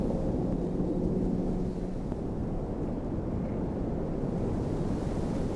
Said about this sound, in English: the wind always seems to get more powerful in the afternoon onwards for some reason